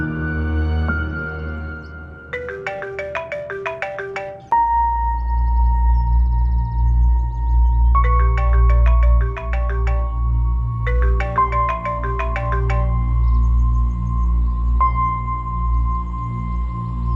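A phone ringtone plays a repeating melodic pattern several times over a steady low hum, with no one answering and no voices.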